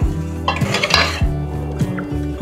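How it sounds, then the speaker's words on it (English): Metal whisk clattering around a bowl while beating egg custard mixture for Portuguese custard tarts, with cooled sugar syrup added gradually; quick rhythmic scraping strokes, close and steady throughout. "I'll gradually add it and continually whisk this egg mixture"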